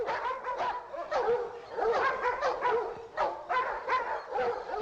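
Several dogs bark and yip in quick repeated bursts, fairly close and loud, with brief gaps between volleys.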